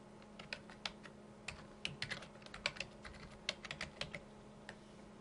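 Someone types an email address on a computer keyboard in a quiet room, crisp key clicks coming in short irregular bursts, soft and close.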